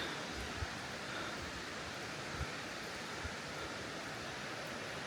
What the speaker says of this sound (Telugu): అక్కడంతా అక్కడ వాటర్ పడుతున్నాయి చూడండి